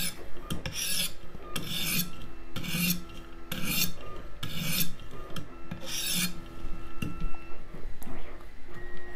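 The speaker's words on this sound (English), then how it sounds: "removing the burr will always be done by this motion where you are only going against the blade" A USMC KA-BAR knife blade is drawn back over a sharpening stone to remove the burr, making about half a dozen evenly spaced, close, gritty rasping strokes with faint scraping between them.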